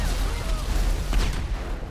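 A deep rumbling blast with a low boom and rolling, crackling shock wave from an explosion near a train in GTA 5 Enhanced, fairly loud and sustained.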